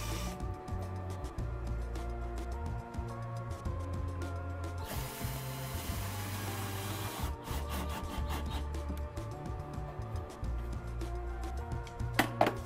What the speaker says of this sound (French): Il les a prépercées avec une fraiseuse, ceci afin de pouvoir les visser à niveau.